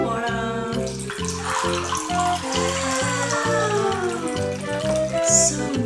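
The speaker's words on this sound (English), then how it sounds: "Pour the water." Water pours steadily into a cup for a toddlers' color-changing demonstration, a soft continuous splash mostly masked by loud, rhythmic background music throughout.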